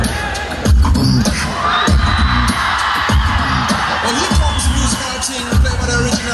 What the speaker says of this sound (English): Please put a huge round of applause for him.